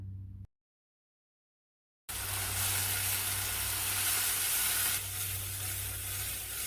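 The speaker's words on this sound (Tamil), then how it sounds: "அரைச்ச விழுது சேர்த்து ஒரு ரெண்டு நிமிஷம் வதக்கி விடலாம்" Ground paste sautéing in a pan for a Tamil coconut-garlic rice and sambal lunch, a steady close sizzle that starts abruptly after a brief gap of silence.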